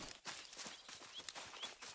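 Footsteps in a hunting video game, a quick run of soft, rhythmic thuds like hooves on ground, faint and moderately close, with no talking.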